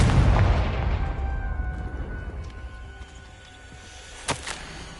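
A Confringo blasting spell explodes in Hogwarts Legacy, a heavy booming blast up front that rumbles and fades, followed by a few faint crackling pops.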